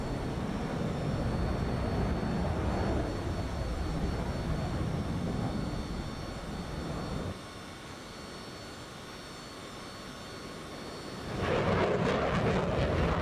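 Cessna Citation jet engine in Microsoft Flight Simulator 2024, a continuous roaring rumble with high whining tones that dips quieter midway and swells louder again toward the end, no speech.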